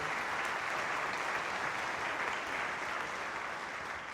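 Steady, even applause from a concert audience at a high school band and orchestra performance, sustained for several seconds at a moderate distance with no talking.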